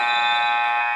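A basketball game buzzer sounds at the end of the half, a single loud, flat electronic tone held for about a second.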